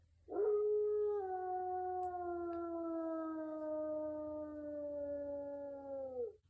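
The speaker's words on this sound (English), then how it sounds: "In the distance, a wolf howled." A single long wolf howl rises sharply, then holds a steady, slowly falling tone for about six seconds before trailing off, clear and alone against a quiet background.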